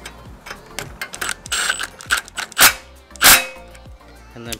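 A ratchet wrench tightens nuts on a DuroMax 420 go-kart engine, giving close, rapid bursts of ratcheting clicks with a few louder metallic knocks in between.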